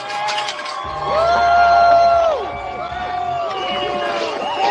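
A street protest crowd lets out a long swell of cheering and whooping, loud and close, rising to a peak and then easing into a steady roar with shouting voices mixed in.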